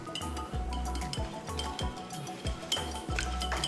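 Three eggs are beaten together for an egg pudding, with brisk rhythmic strokes clinking against the bowl about one to two times a second, close and steady, and no talking.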